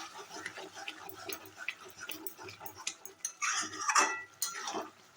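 A spoon stirs a Bengali shukto of five vegetables in a cooking pot, with rapid scraping and clinking against the metal, close and continuous, growing busier toward the end.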